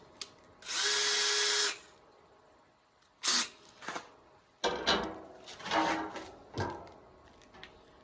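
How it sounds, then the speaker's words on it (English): A power drill whirs in several short bursts while drilling holes for a wood stove kit installation, one long steady run followed by quicker spurts and pauses, close by. "Now you're ready to drill the rest of the holes."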